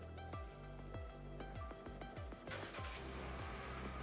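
A Kia Sonet engine idles just after starting, giving a steady low rumble with a regular pulsing beat close to the microphone. A brighter burst of noise comes in about halfway through.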